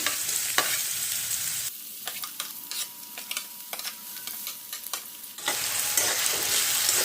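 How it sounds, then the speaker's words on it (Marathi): Onion fries in two spoonfuls of oil and is stirred in a pan, a close, steady sizzle with a run of quick scraping and tapping stirs in the middle before the hiss swells again. "मी याच्यामध्ये दोन चमचे तेल टाकलेलं टाकत आहे टाकते तर त्यामध्ये मी कांदा घेते तेला परतून"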